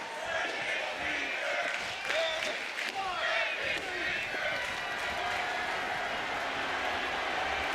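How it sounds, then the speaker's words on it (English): A wrestling arena crowd in the WWE 2K25 video game roars and cheers steadily for the whole stretch, a dense unbroken wall of noise with a commentator talking over it. "The crowd was cheering."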